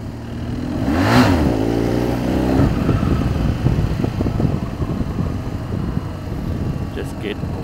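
A motorcycle engine revs up hard for a wheelie on a rural road, a rising rev followed by a steady loud drone with some speech.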